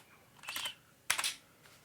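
Keys on a computer keyboard tapped in two quick bursts while commands are entered on a PC during a Windows 1.0 install, crisp and close, with a faint extra tap near the end.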